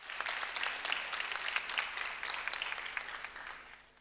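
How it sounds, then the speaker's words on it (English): An audience at a university event applauds continuously, a dense, steady wash of many hands clapping at moderate loudness throughout, without voices. "So let's give him a big round of applause"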